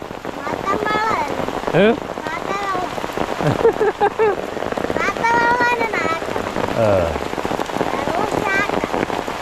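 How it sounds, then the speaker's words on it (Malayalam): Heavy rain pours steadily with a constant hiss, while people talk over it throughout. "ഭയങ്കര മഴ"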